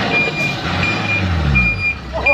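A six-wheel truck reverses on a narrow work site, its steady high reversing beep repeating over a loud rumbling engine, with a voice briefly heard nearby.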